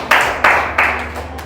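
Three loud claps in a steady rhythm from a church congregation, each a short, close burst with a brief decaying tail.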